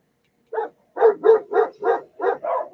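A dog outside barks loudly in a rapid, steady run of about eight barks, one single bark first and then a continuous rhythmic burst, with nothing else audible.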